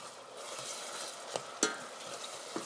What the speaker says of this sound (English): And now you want to allow it to saute for a good 5 minutes.